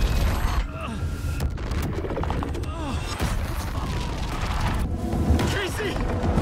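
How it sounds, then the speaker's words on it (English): Gunfire in the video game Alan Wake 2, with repeated shots and booming impacts mixed with mechanical clatter under a dense game soundscape, while a voice talks over it. "Casey's shooting a lot."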